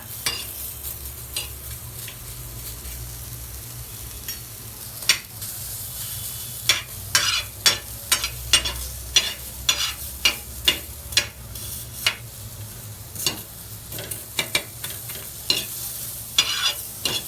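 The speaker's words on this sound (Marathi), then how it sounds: "त्याच्यामुळे तव्यावर भाजून घ्यायचा कांदा" Onion roasting on a tawa griddle for Dhangari chicken, giving a steady low sizzle with repeated sharp clicks and scrapes as the pieces are stirred and turned, close and fairly loud with no talk.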